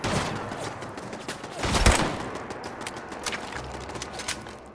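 Gunfire rattles through a Fallout 4 fight with raiders as rapid bursts of sharp cracks, with one heavier blast near the middle, all at moderate level.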